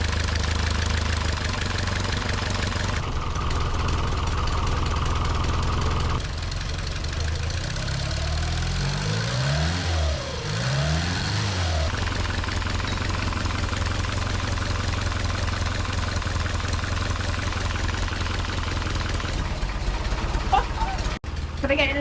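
A rebuilt car with no tyres fitted idles steadily while it warms up. The engine drones close and constant, with a brief wavering pitch sweep partway through, and voices talk over it at times.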